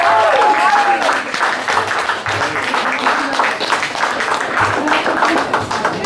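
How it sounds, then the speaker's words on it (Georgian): Concert audience at a jubilee concert in New York giving dense, sustained applause, loud and close, with a voice speaking briefly over it at the start. "აი ესე მიუღოთ ბევრი ტაში"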